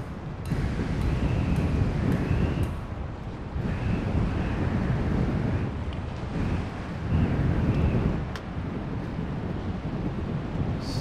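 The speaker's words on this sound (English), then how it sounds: "that's the wind gust" Rushing wind gusts in an Unreal Engine 5 game swell and fade in waves, with a faint airy wind whistle riding on top, loud and continuous throughout.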